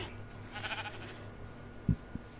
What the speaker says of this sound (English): We got some sheep.